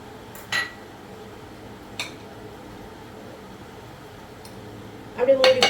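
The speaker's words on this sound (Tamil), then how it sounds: "அப்படியே மூடி போட்டு வச்சுக்கலாம்." A metal lid clinks onto a pot of mutton left marinating for an hour for a Punjabi dhaba-style curry. Two soft knocks come first, then a brighter rattle of metal on metal near the end, over a quiet kitchen hum.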